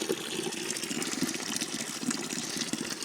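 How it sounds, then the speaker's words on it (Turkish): Stream of water running through open countryside, a steady close gush and gurgle of flowing water that continues evenly without pause. "Kırlarda güzel bir su akıyor."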